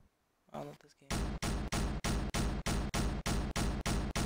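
Gunshots in the Roblox game It Lurks ring out as a steady series of loud, evenly spaced blasts, about a dozen in a row, after a brief burst of other game sounds.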